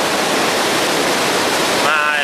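Thundering spray at Iguaçu Falls fills everything with a loud, continuous, close-up roar of crashing water that never lets up.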